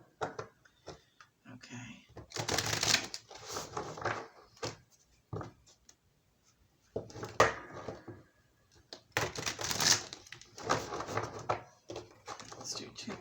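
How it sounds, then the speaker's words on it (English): Cards are shuffled in several quick riffling bursts separated by short pauses, close and soft, with faint speech mixed in. "Maybe a few more shuffles because the cards need to be warmed up."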